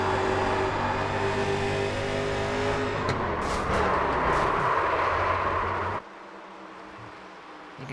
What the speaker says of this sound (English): You can just hear the banging of the sheet metal from that contact all over from 3 different drivers involved